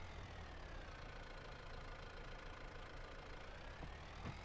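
A tractor engine in Farming Simulator idles and rumbles at a steady low drone, fairly quiet and continuous, with no speech over it.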